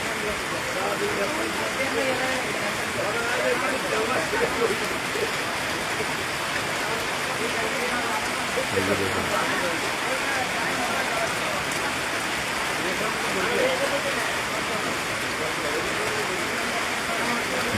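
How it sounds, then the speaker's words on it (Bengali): Heavy rain pouring at a village bazaar on an island upazila, a dense, constant roar of falling water that stays steady and loud throughout. "এক মুহূর্তের জন্য কিন্তু থেমে নেই বৃষ্টি"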